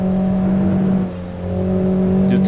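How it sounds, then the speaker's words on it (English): A Dacia Sandero RS climbing hard on the Transfagarasan hillclimb, its engine droning at steady high revs, briefly dipping in note as traction control intervenes, then pulling back up, loud and close throughout. "You can hear that traction control intervening, keeping the car from just sort of understeering into the shadow realm."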